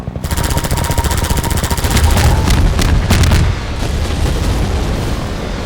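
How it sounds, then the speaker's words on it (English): Bombs explode amid rattling automatic gunfire in Half-Life 2, a thick, loud barrage peaking in a heavy blast midway before settling into steady firing. "I seriously love the sound of all the bombs just going."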